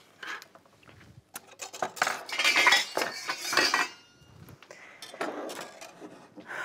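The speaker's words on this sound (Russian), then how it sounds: "Ввожу по одному желтку в тесто, хорошо постоянно перемешивая" A whisk beating egg yolks one at a time into dough for a Viennese apple pie, with irregular bursts of metallic clinking and scraping against the bowl and louder flurries in the middle.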